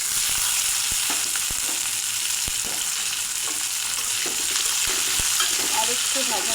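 Hyacinth bean seeds frying with potatoes in a pan, a continuous bright sizzle broken by repeated sharp scrapes and clicks of a utensil stirring, close and without speech.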